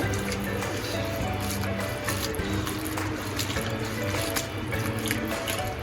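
Tap water runs continuously into a sink while leafy greens are washed, a close, steady splashing gush with small sloshing changes throughout.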